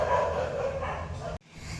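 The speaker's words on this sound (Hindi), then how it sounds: "कुत्ते भौंक रहे हैं" Dogs barking at night outdoors, a short loud burst of barking that cuts off abruptly near the end, heard without talk.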